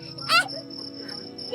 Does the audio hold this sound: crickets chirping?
yes